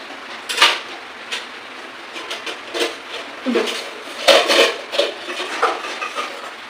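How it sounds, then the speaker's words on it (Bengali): Cooking pots are handled and set down, producing a series of close clattering knocks and scrapes in an irregular rhythm. "দেখো হাঁড়িটাকে এইভাবে রেখেছি"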